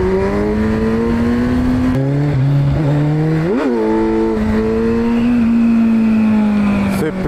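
Motorcycle engine held in second gear during a clutch wheelie, a loud, close, sustained drone that dips, surges in a quick rev, then settles back to a steady pull.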